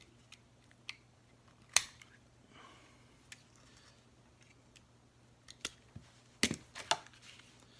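Rope being cut for a leather arm guard, heard as a handful of sharp close snips spread across quiet stretches, with a cluster of cuts toward the end and no talking.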